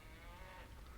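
A cow moos from the Baldur's Gate II video game, a single steady low bellow lasting about a second, faint and alone.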